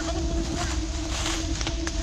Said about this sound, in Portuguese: Oh, começou a ventar!